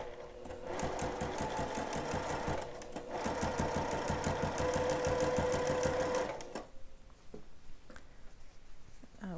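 Sewing machine stitching three dress bodice pieces together, the lining laid over them with a half-inch seam allowance: a steady, close, rapid needle rhythm running for about six seconds with a short pause, then stopping into quiet handling noises.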